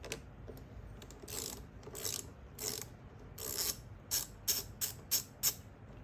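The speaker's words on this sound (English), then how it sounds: "Same thing, 10 millimeter socket." A ratchet with a 10 millimeter socket loosens a car battery terminal, giving short close clicking bursts that quicken into a regular series of ratcheting strokes near the end.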